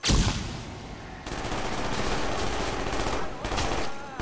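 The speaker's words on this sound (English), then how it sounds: "Flashbang!" A flashbang grenade going off in Call of Duty Black Ops, a loud sharp burst followed by a sustained roar of in-game gunfire and rumble, with a faint voice underneath.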